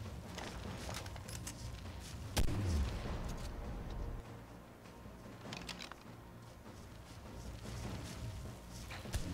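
Weapon fire against a dungeon boss in the mobile game ARK Mobile, a steady stream of crackling shots and impacts with one heavier boom early on, continuous and fairly loud throughout.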